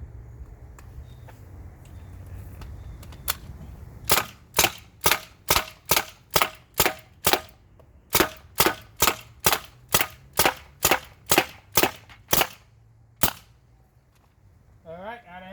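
A Tippmann TMC paintball marker test firing outdoors: a quiet stretch, then about twenty sharp, evenly spaced pops in two strings split by a short pause, with a final lone shot and light background noise.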